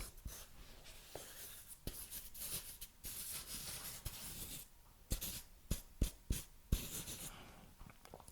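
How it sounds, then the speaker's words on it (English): Pen scratching across paper in short writing strokes, close and quiet, with irregular bursts of scribbling and brief pauses, no voices. "Do you like pen sounds?"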